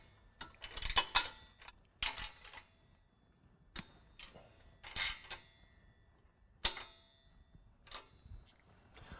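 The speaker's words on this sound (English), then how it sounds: "now using 15 millimeter wrench and ratchet, I'm going to go ahead and tighten down the nuts at the flange" A ratchet and a 15 mm wrench tighten the exhaust flange nuts while a Flowmaster Outlaw exhaust is fitted to a 2019 Ram 1500. Sparse metallic clicks and clanks sound close by, separated by quiet gaps, with no speech.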